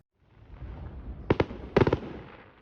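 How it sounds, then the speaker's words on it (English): Fireworks go off at an Independence Day show at Cass Lake, sharp bursts and crackling pops over a low crowd rumble, with one blast followed by a quick cluster. "our residents love to watch big fireworks shows"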